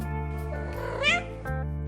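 A fat cat meows aboard a 57-foot Nordhavn trawler, a single drawn-out, rising then falling call heard up close over a steady low hum of the boat.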